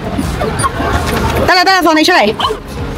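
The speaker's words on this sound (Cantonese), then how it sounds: "因為我隻狗已經喊緊啦" A pet dog gives a short, high whine at an outdoor pet park on a hot day, heard under a person's nearby speech and background chatter.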